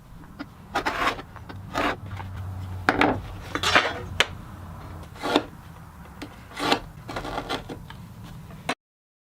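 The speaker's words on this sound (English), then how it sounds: "I'll begin by squaring up my piece of leather using a utility knife" A utility knife scores a piece of leather against a straight edge, giving about a dozen separate short scraping strokes at close range with brief pauses between them, over a low steady background hum.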